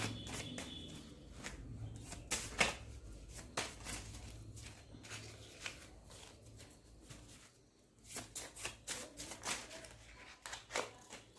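Tarot cards are shuffled and drawn during a pick-a-card reading, heard as soft irregular riffles, flicks and taps spread across the stretch, loudest in a quick flurry near the end; no one speaks.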